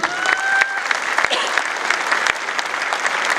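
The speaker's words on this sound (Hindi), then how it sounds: "एक बार जोरदार तालियां होनी चाहिए" A crowd at a business gathering breaks into loud, sustained applause, a thick wash of clapping with a few sharp individual claps and a brief whistle-like tone near the start.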